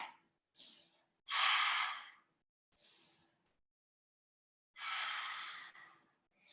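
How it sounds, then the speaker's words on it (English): A slow exhale followed by an inhale during a Pilates mat exercise, soft close breaths in separate airy bursts with quiet pauses between them, no talk. "Exhale and inhale"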